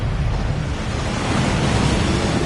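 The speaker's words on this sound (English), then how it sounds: "That waterfall washes away all enchantments." Waterfall rushing over the vault track in the Gringotts bank of the Hogwarts Legacy video game, a loud, steady roar of pouring water with deep low rumble, continuous and unbroken throughout.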